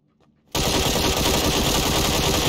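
Sustained automatic gunfire in PUBG erupts suddenly after a brief quiet and continues as a loud, rapid burst of shots to the end.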